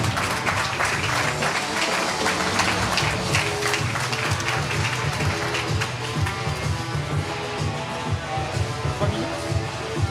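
An audience at a startup competition awards ceremony breaks into steady, dense applause that carries on loudly for about ten seconds, with a few whoops and cheers mixed into the clapping.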